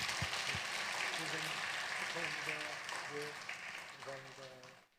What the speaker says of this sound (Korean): 큰 박수로 좀 격려 좀 부탁드립니다